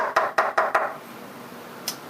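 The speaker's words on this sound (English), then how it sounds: "If somebody comes by and gives a regular knock" Four sharp, evenly spaced knocks land on a door fitted with a secret-knock lock, close and clear, followed by a faint tap and then quiet.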